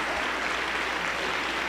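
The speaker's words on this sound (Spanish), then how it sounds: "Aplauso para el Señor Jesús" A church congregation at a Pentecostal service claps in steady, dense, continuous applause that fills the room evenly from start to finish.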